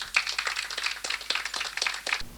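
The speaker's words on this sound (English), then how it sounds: "give yourselves a big round of applause" A small audience at a youth self-development initiative launch in Grand Roy, Grenada, gives a round of applause: quick, fairly sparse hand claps in an uneven rhythm, moderately close and clear.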